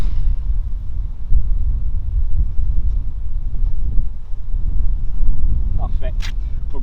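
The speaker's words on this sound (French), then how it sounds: "on a un gros vent contre" Strong wind gusting across an open golf course, a continuous low buffeting roar against the microphone with no let-up.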